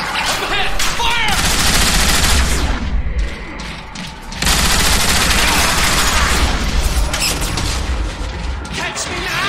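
Heavy, continuous gunfire and explosive bursts from the video game Transformers: War for Cybertron, loud and dense throughout with a brief lull midway, while a character's voice speaks over the battle.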